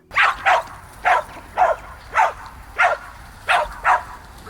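A Pumi herding dog barks repeatedly in short, sharp bursts, roughly one or two per second, close and loud against a quiet background.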